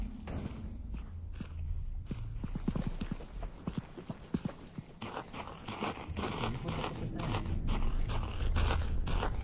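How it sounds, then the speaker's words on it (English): A streamer's own footsteps picked up loudly by a microphone while walking in the game Content Warning, a close, steady run of thudding steps with some talking in between. "My fucking footsteps are way too loud with the microphone on."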